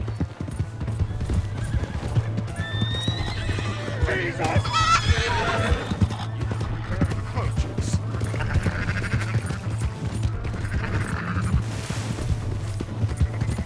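In Red Dead Redemption 2, a horse whinnies loudly while hooves clip-clop steadily, close and prominent over a low game ambience, with voices talking at times.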